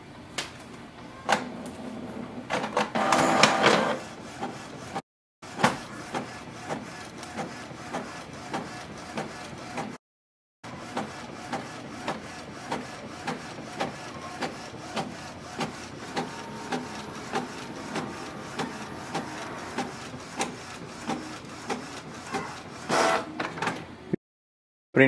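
A Canon PIXMA G3270 inkjet printer making a copy: mechanical whirring and sliding paper-feed sounds, with a run of regular clicks and a faint high whine midway, near and steady over about 25 seconds with brief pauses.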